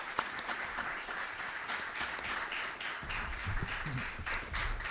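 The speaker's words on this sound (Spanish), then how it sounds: "les pido por favor un gran aplauso para Carlos." Audience applause for a speaker at a talk on bringing studio mixes to a live show, a steady wash of clapping lasting the whole stretch, with a louder, fuller swell in the second half.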